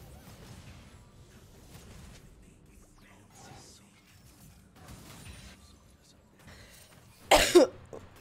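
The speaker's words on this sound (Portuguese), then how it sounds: "pior que agora eu tô tossindo" A single sharp cough bursts out loudly near the end, after quiet background talk and room noise from someone indoors in air-conditioning.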